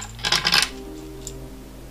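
Metal bolts dropped into an aluminum coil-on-plug plate on a turbo MX5 engine, a quick cluster of bright clinks and rattles close by, followed by one faint clink over a low background hum.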